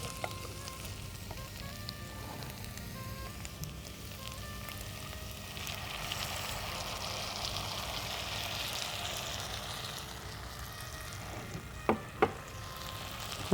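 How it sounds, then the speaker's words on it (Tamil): Vegetables sauté in oil in a pan for tamarind curry, giving a steady, dense sizzle and crackle throughout, fairly close, with two small sharp clicks near the end and no talk. "இப்போ நம்ம பலகாய் மண்டிக்கு எல்லாம் போட்டு வதக்கிட்டுருக்கோம்."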